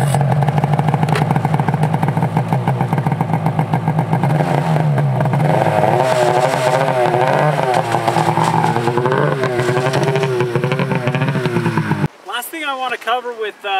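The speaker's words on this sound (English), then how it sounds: "we're ready to unload the snowmobile and get riding" A snowmobile engine is driven off a trailer in snow and ice, revving with rising and falling pitch at close range for about twelve seconds before the sound abruptly changes near the end.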